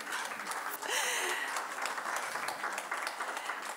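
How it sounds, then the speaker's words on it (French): Audience applauding the speakers at a literary meeting with Gisèle Pineau, a faint, steady wash of clapping throughout with no distinct individual claps. "On vous demande d'applaudir les intervenants"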